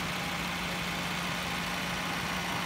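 A 2008 Toyota Vios Limo sedan idles with a steady, even engine hum. It is loud and close with no change in rhythm and no voices.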